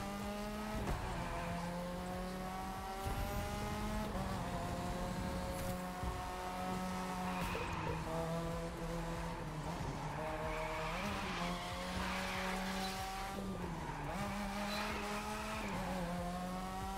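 Cars drift with sustained tire squeal and revving engines in The Crew 2 racing game, including a BMW and an RX-7, continuous and loud with pitch swoops as the engines rise and fall.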